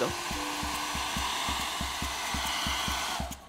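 Hair dryer set to high heat warms a plastic piece for a craft project, a steady loud whir running throughout with an even, regular pulsing hum beneath it.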